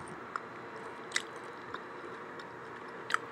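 Someone bites and chews crunchy bread up close, a few sharp crackling crunches spaced apart over a quiet background, with no talking.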